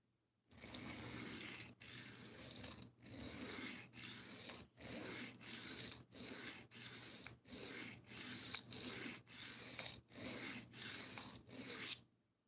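A knife is drawn repeatedly across a sharpening stone in even strokes, about a dozen close, dry rasping passes separated by short pauses.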